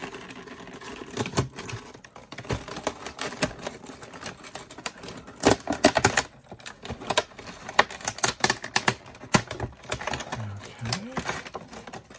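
Sharp, hard plastic packaging on a toy box being pried and cracked open by hand, heard as close, irregular crackling, clicking and snapping bursts with a few louder cracks, and a person talking over parts of it.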